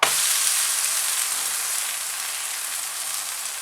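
Veg ghee podi uthappam batter cooking in ghee on a pan, a steady, close, bright sizzle that crackles without pause for a few seconds, with no voices over it.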